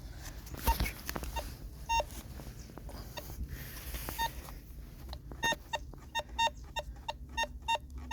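A Dagger Max metal detector beeps through stacked paving stones, its electronic tones coming in quick repeated pulses that grow more regular and frequent toward the end, close and moderately loud.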